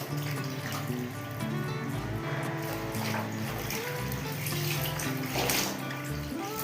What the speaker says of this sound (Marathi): याच्यातून अशी पिळून घ्यायची, मग या पाण्यातून पिळून काढायची.